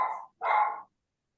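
A small dog barks twice during a video call, two short, sharp yaps separated by a brief pause, fairly close and clear, followed by silence.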